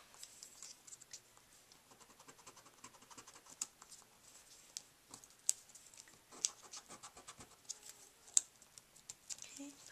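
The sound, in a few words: erasing pencil marks on card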